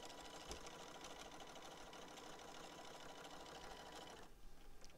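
Sewing machine stitching a fabric seam sample, a fast steady mechanical chatter of the needle running continuously, close up and fairly quiet, easing off near the end.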